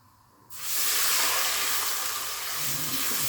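Water pours steadily into a cooking pot holding onions, a loud continuous rushing splash that starts abruptly and runs on alone with no talk.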